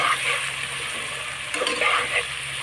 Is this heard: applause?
no